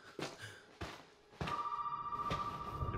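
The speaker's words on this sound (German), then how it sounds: "Jetzt klingt das Telefon." In the horror game Resident Evil VII, a telephone rings with an electronic trill that starts partway through and keeps going, after a few soft thuds and footsteps, fairly quiet overall.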